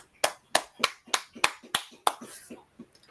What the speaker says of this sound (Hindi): इस खूबसूरत कलाम के लिए ज़ोरदार तालियां बजाएंगे।